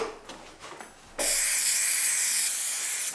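Adhesive sprays from a can onto a Ford F-150 headliner: after a few soft handling sounds, a loud, steady close hiss starts abruptly and holds for about two seconds before easing off.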